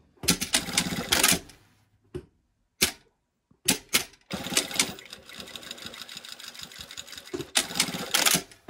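A sewing machine runs a straight stitch in several close, loud bursts of rapid mechanical clatter, broken by short pauses and a few single clicks, with one longer run near the end.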